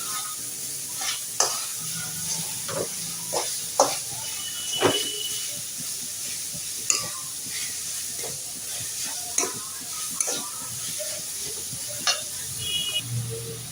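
Grated cauliflower sizzling in a hot pan for cauliflower paratha, a steady frying hiss broken by sharp scraping stirs at irregular intervals, close and alone.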